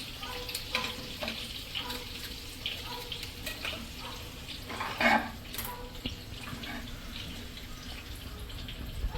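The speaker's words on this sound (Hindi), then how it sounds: "अंडा जो है इसको थोड़ा सा हमें तल लेना है" Egg frying in a pan with green spices, a steady close sizzle and crackle with a few light stirring clinks and scrapes throughout, no voices.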